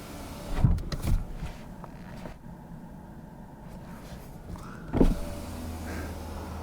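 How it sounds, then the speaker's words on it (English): Power windows on a 2019 Ford Mustang close with a quiet motor whine, bracketed by two short thumps as the glass starts and seats, heard alone inside the car. "We close back windows, and right now front."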